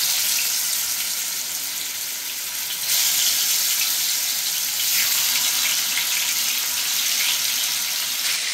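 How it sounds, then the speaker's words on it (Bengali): Pangas fish slices hit well-heated oil and fry with a steady, dense sizzle that grows louder partway through and keeps up a continuous crackling hiss, without any voices. "তেলটা আমার খুব ভালোভাবে গরম হয়ে গেছে, এখন আমি মাছগুলো দিয়ে দিব সব"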